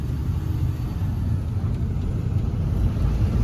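Cars passing on a busy main road in Hyderabad, heard as a steady low rumble of engines and tyres that stays loud and continuous with no talk over it.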